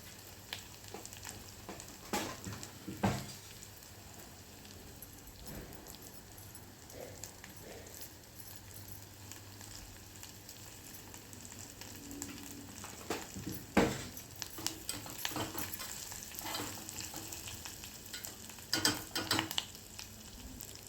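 Spices crackle and sizzle faintly in hot oil as a dal tempering, with asafoetida added, with scattered pops and occasional utensil taps against the pan, steady and quiet throughout.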